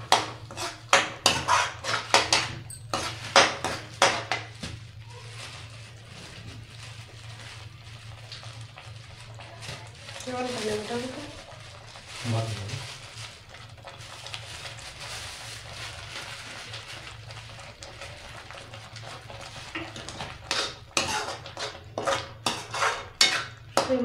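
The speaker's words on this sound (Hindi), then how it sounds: "तो मसाले को भून लेती हूँ" Ground spices being roasted in oil in a pan for a potato curry, with repeated scraping and clinking of a metal spoon against the pan over a low sizzle, busiest at the start and end.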